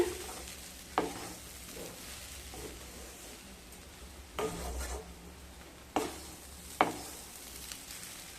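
A spoon stirs semolina for savory sooji in a pan over a soft background sizzle, with several distinct scraping strokes and clinks spaced a second or two apart, close and fairly quiet.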